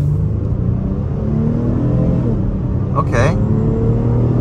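A 2023 Honda Pilot Touring accelerates at half throttle in normal mode, its engine a steady rising rumble heard from the cabin, with a brief spoken word near the end.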